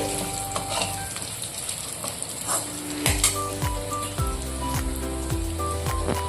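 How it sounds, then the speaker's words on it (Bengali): Potatoes frying in oil in a home kitchen pan, a steady crackling sizzle with occasional scrapes and clinks of a utensil stirring against the pan, close and continuous. "এটা আমি ভালো করে একটু নেড়ে নেবো, হালকা করে আলুটা ভেজে নেবো তেলের মধ্যে"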